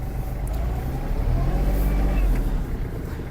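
A Kubota KT-27 Japanese mini tractor with a cab pulls away after the clutch is eased out, its low engine rumble steady and close and swelling slightly midway.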